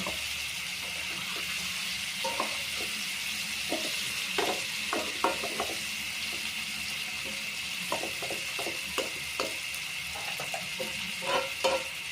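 Rohu fish frying in a pan, a constant soft sizzle with intermittent scrapes and taps as the pieces are stirred and flipped.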